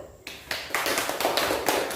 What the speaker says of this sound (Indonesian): Tepuk tangan untuk kelompok 1 dan kelompok 2 yang sudah maju ya